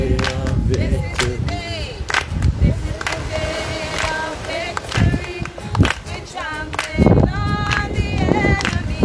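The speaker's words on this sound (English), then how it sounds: "Clap your hands and let's rejoice together." A congregation claps along at a baptism service, loud rhythmic hand claps over lively singing, shouting and music, the crowd noise dense and close.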